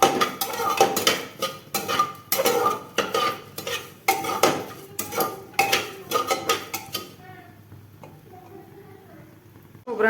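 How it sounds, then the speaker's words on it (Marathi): Coconut and dry fruits dry-roast in a pan over medium heat for lapshi. A spoon or spatula scrapes and clinks against the pan in a quick, uneven rhythm, then the sound fades to near quiet at the end. "खोबरं आणि ड्रायफ्रूट्स पण मध्यम आचेवर गव्हाळ रंगावरती भाजून घ्यायचं"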